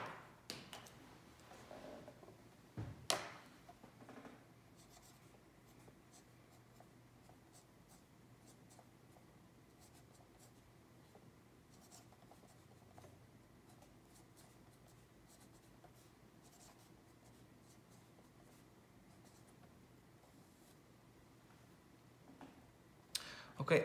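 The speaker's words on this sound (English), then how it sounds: "now I'm going to write down the equation" Pen writing an equation on paper, faint scratchy strokes and light taps running continuously at close range, with a sharp knock near the start.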